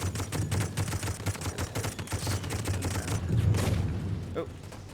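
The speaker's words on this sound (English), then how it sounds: "the machine gun actually also fires faster as it gets hotter" Rapid machine gun fire from the Toy Soldiers video game rattles continuously for about five seconds, dense and loud, with booming impacts layered over it.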